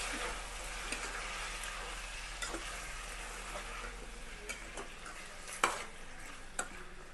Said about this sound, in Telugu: చికెన్ వేసి మంచిగా కలుపుకోవాలి